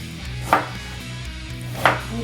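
A knife slicing ginger lengthwise on a cutting board, two distinct close chopping knocks about a second and a half apart over a quiet low hum.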